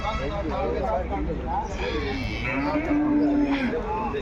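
An HF cross Jersey cow moos once in a low, drawn-out call amid people talking nearby at a livestock market.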